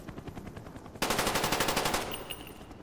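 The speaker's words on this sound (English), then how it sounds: "Was I just shooting my own Sam turret?" Automatic gunfire from a SAM turret in the Call of Duty Black Ops video game, a rapid, evenly spaced burst of shots that grows louder midway and then tapers off, heard alone without talk.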